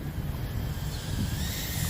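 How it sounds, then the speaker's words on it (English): Steady wind rushes and buffets a microphone outdoors while a small Snaptain SP350 drone is flown, a constant broadband roar with no gaps and no talk. "The wind is really trying to pull it away from me"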